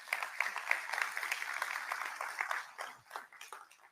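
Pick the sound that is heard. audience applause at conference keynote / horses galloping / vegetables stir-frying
audience applause at conference keynote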